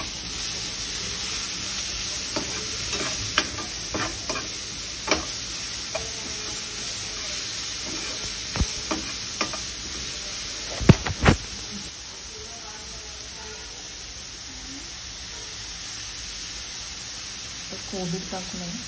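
Vegetable salad of cabbage and capsicum with chaat masala and salt being stir-fried on high flame, a steady close sizzle with scattered clicks of stirring, under talk in Marathi.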